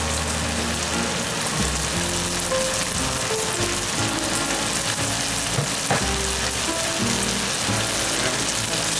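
Yakisoba noodles with water spinach fry in soy sauce in a hot pan, a dense, continuous loud sizzle with faint stirring scrapes and no pauses.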